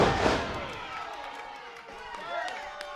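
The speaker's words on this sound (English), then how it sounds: "Enormous power bomb there." At an independent wrestling event, a big wrestler's powerbomb drives an opponent onto the ring mat with a loud booming impact at the start, followed by a roaring crowd and a commentator talking over the noise.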